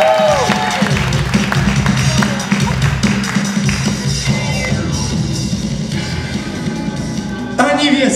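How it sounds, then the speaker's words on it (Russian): Audience applause at a live hip-hop staging of Pushkin's tale of the dead princess, dense clapping with some cheering sustained through the clip, briefly dipping before a final burst near the end. "ваши аплодисменты"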